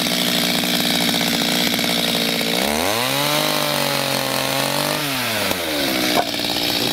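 A saw cuts firewood held on a purpose-built sawhorse: a loud, continuous motor drone that drops in pitch and strains as it bites through the log, then rises again near the end.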